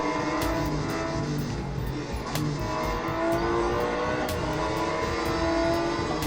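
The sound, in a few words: car racing in Real Racing 3 video game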